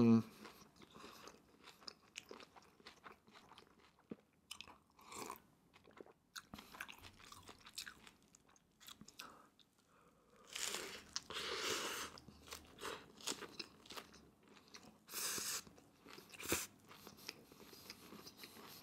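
Crunchy Doritos-shell tacos from Taco Bell are bitten and chewed close up, with scattered crunches and louder crackling bursts late on, between quiet stretches.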